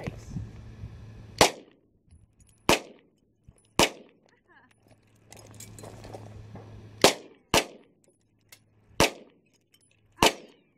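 Gunshots from target shooting in the desert: about eight sharp, loud reports spaced a second or more apart, each ringing out briefly, with voices talking faintly between some shots.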